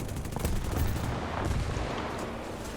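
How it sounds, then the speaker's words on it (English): B-25 Mitchell nose guns strafing ground targets in War Thunder, a dense, continuous rattle of rapid automatic gunfire with heavy low-end rumble, loud and sustained throughout without pause. "we're just going to be going through with the nose guns and laying waste to these ground"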